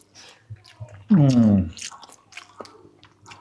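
Someone eats fish curry (chepala pulusu) and chews close to the mic, with soft wet bites and smacking. A drawn-out pleased hum rises in the middle and some quiet voice sounds come through.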